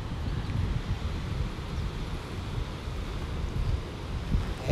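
Northeast wind blows across Praia Brava beach while small half-metre waves break, making a constant broadband rushing wash with gusty swells and no voices.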